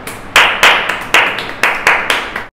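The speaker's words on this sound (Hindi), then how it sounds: "ताली मार दीजिए।" A small group of people claps hands outdoors in a series of bursts, each a loud, close flurry of claps about a third of a second apart. The clapping stops abruptly at the end.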